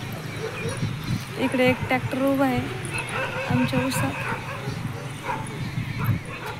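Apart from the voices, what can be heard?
puppies fighting and barking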